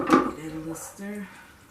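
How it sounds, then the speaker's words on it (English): A spoon knocks and scrapes inside a pot of spicy sauce during a brief stir, a clatter up front followed by a few softer clinks, fairly close. "Get that a little stir."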